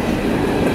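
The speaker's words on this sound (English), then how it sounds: "that's gonna be the end of the train" A CSX eastbound empty coal train rolls past on the rails, its cars giving a steady, loud, close rumble with a broadband rattle that runs unbroken through the short moment.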